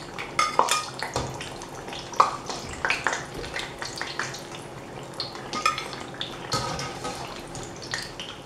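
Eggplant frying in a pan in a home kitchen, a low sizzle under frequent clinks and scrapes of a utensil against the pan, with light drips, all close by.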